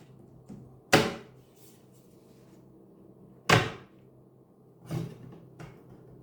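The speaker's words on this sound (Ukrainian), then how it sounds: "Встановлюємо на місце стопорну планку." Locking bar snapped back into place on a Gorenje oven door after refitting the glass: two sharp knocking thuds spaced a few seconds apart, followed by a softer pair of clicks, in a quiet room with no talking.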